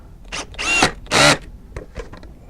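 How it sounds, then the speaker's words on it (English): Screwdriver tightening a screw on a battery bracket during a Mini 96 battery change, heard as a few close, short bursts of grinding, ratcheting turns separated by brief pauses. "I'll finish it off with the screwdriver."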